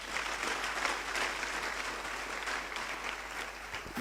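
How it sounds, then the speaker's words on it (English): An audience at a leadership speech event fills the room with continuous clapping, a dense and even wash of many hands that eases off slightly toward the end. "deserves a round of applause"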